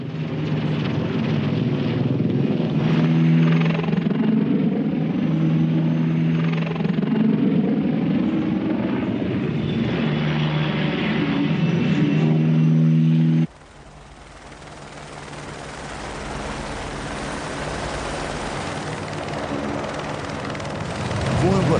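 Military attack helicopters fly low and fast just above the ground, their rotors and engines making a loud, continuous roar that later drops to a quieter, steadier rumble, with a narrator speaking over it.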